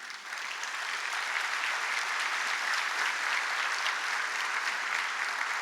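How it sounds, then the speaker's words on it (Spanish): Sustained applause from a large church congregation, steady and even for several seconds with no voices over it. "Dale un fuerte aplauso al Señor."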